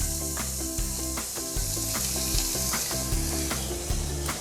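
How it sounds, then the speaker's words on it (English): Onions sautéing in butter in a pot, a dense continuous sizzle with a rhythmic, pulsing tonal layer running underneath it throughout. "We're also going to add 2 tablespoons of butter. And then from here, we're gonna add onions."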